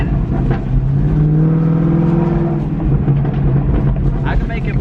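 A 2017 Camaro with Kooks headers and a tune drones loudly as its engine note rises and falls, with sharp exhaust crackles near the end and a voice talking over it, heard from inside the car.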